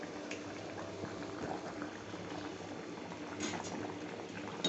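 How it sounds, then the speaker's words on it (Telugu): Mushroom biryani with salt and coriander boiling in a pot, a steady close bubbling and gentle popping that continues evenly throughout with no talk. "బాయిల్ అవుతుంది"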